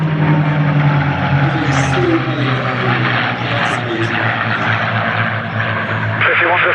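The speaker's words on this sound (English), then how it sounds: "B-17 turning left" A Boeing B-17G bomber flying at the Sywell Airshow in 2024, its piston engines and propellers making a loud, continuous, droning roar throughout, with announcer-style talk underneath.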